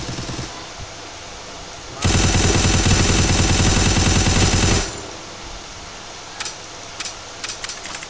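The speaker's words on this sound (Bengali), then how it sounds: "পিছনে বুলেট ফায়ার হলো।" A long, rapid burst of automatic gunfire in the video game Free Fire Max rattles loudly for about three seconds, framed by quieter game ambience and a few sharp clicks.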